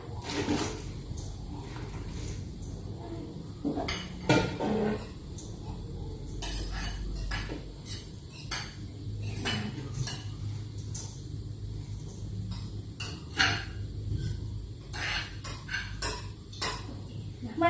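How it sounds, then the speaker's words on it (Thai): Small chopped pieces of soap base are tipped into a metal pot, giving clinks and scraping knocks of solids against metal, with irregular sharp taps over a low background hum and no speech. "ต่อไปนะคะเมื่อได้หนึ่งพันกรัมเรียบร้อยนะคะเราก็เทลงไปในหม้อค่ะ"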